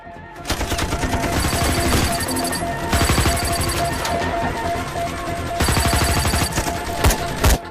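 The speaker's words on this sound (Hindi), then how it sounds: "हम तो फायरिंग कर रहे हैं सर" Gunfire in a Kargil war film battle scene: rapid, loud bursts of automatic and single shots come in dense repeated volleys over several seconds, layered with crashes and score.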